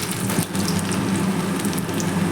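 Chopped garlic frying in hot oil in a wok, a steady close crackling sizzle running throughout without talk.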